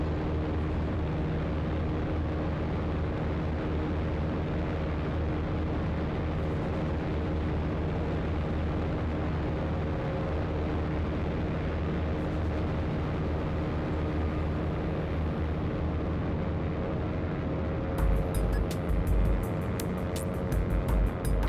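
A Piper Archer's piston engine drones in X-Plane 12 with a steady, harmonic-rich hum and a choppy, rotor-like layer, running continuously and loud, with faint clicks near the end.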